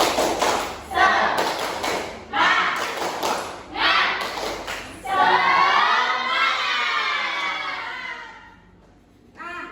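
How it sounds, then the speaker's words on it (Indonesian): A sixth-grade class doing a rhythmic spirit-clap routine, led by the teacher: several sharp bursts of group clapping in a steady pattern, followed by children's voices chanting and shouting together. "kita tepuk semangat dulu. Ibu pimpin ya, 1, 2, 3, tepuk semangat."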